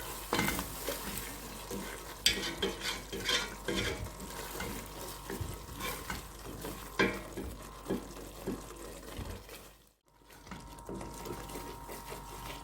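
Chicken pastilla filling is stirred in a pan with a steady scraping, sizzling rattle, uneven and close, with irregular clatters of the utensil and a brief pause near the end before stirring resumes.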